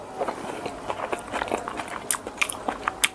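Biting and chewing a soft Indonesian lumpia basah, a wet spring roll with palm sugar syrup, sausage and jicama, heard as close, quiet, irregular crunchy chews and mouth sounds without talk.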